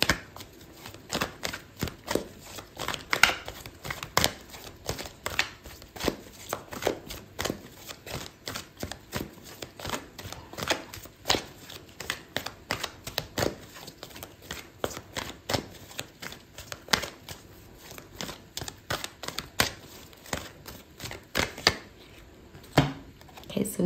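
Tarot cards being shuffled and pulled, a steady run of close, crisp riffles, slaps and flicks repeating throughout.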